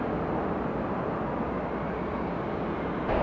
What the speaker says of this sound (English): Little baby airplane